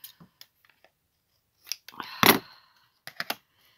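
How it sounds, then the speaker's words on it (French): Scissors snip through paper scraps for card making, giving a few close, crisp cuts and one longer slicing stroke amid small clicks and rustles. "il faut savoir jouer des ciseaux quand c'est nécessaire"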